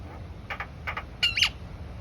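A small bird on a building rooftop gives a few short squawking calls, with two soft pairs of notes and then a louder, sharper burst, clear against quiet background noise.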